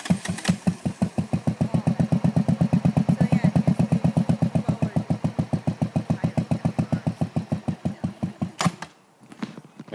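A motorcycle engine runs with its clutch slipping while riding on sod, giving a loud, close, rapid and steady putter that cuts out abruptly near the end.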